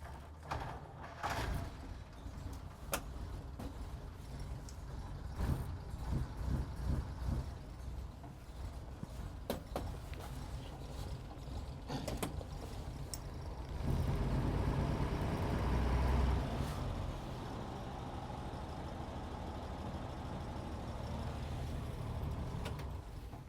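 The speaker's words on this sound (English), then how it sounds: "hit the starter, and the engine will come alive" Starter cranking on the 6-volt engine of a 1937 White 706 National Park bus, a labored rhythmic churn before the engine catches and settles into a loud, steady low rumble.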